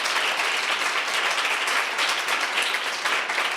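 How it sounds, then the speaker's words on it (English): An audience at a business pitch and awards event in Denver breaks into a round of applause, dense sustained clapping that fills the room evenly without letup. "Give them a round of applause to yourselves and to your peers."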